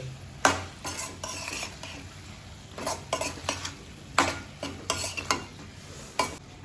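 Potatoes and drumsticks are stirred into masala in a pan, with irregular spoon scrapes and clinks against metal over a faint sizzle, close and without talk.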